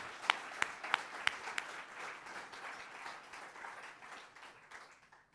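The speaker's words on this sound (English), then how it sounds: "Can we give a round of applause for that?" A round of applause at the closing of a festival event with the reveal of a new AIMS slogan: a few sharp, close claps lead into a softer, spread-out patter of clapping from the crowd that gradually thins toward the end.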